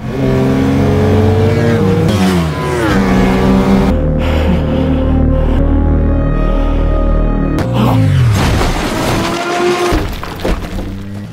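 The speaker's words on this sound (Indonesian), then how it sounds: "ia pun harus kembali menggeber motor untuk mewujudkan mimpinya" Motorbike engine revving in a film scene, loud rising and falling whines with sharp pitch sweeps, a brief lull, then a renewed surge and a crashing, shattering burst near the end.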